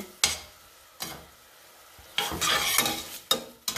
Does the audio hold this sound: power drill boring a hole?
no